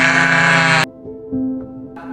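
A cartoon sheep's bleat rings out loud and harmonic for nearly a second, then cuts off, followed by quieter tonal sounds and faint shuffling.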